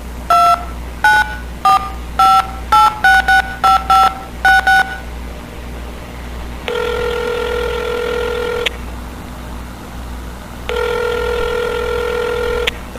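A phone in a video game dials out with a quick series of about ten touch-tone beeps, then two long ringback tones separated by a pause, loud and clear over a faint low hum.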